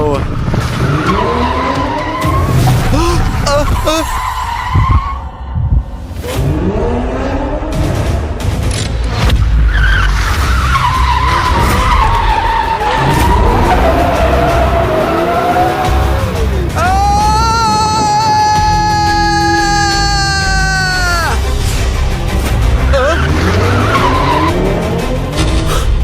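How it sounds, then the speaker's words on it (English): A racing car drifts with long, loud tire squeals and skidding screeches, mixed with engine roar and booms, while voices talk excitedly over the action. "Perfect drift. What a perfect turn."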